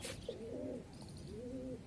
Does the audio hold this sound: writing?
no